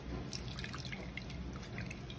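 Water dribbles and drips from a kitchen sponge being squeezed out after use in foam flock crafting. The patter is soft and irregular, close and quiet, with no voices.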